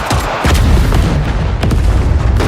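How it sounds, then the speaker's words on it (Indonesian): A loud, booming grenade explosion in a film, with rumbling low-end and debris-like noise, followed by a second heavy thud, dense and close. "Sebuah ledakan hebat menghempaskan mereka berdua"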